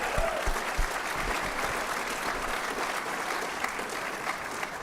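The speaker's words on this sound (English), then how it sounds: "How about you deserve a round of applause?" Audience applause fills the hall at the 2023 Rice Business Plan Competition, a steady, dense wash of clapping from a large crowd held for about five seconds with no voices over it.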